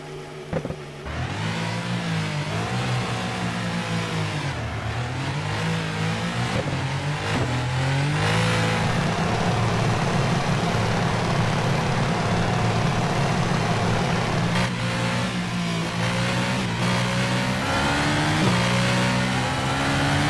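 A 2014 F1 race car engine in the rFactor video game screams and revs continuously, pitch climbing and dropping with gear shifts, loud and close throughout with no talking.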